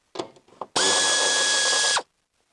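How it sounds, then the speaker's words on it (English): An air ratchet spins out 8mm bolts while a Hyundai ix35 in-tank fuel filter is being replaced. A single loud, close whirring burst lasts just over a second, with a steady high whine, and is preceded by a few small clicks. "I might just get my air ratchet just to undo these"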